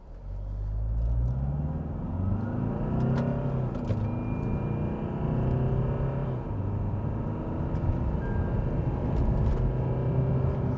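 A 2020 Tata Harrier automatic SUV on the move, its engine a steady low rumble with rising and falling harmonics as it accelerates, and road and wind noise filling the cabin throughout without any voices.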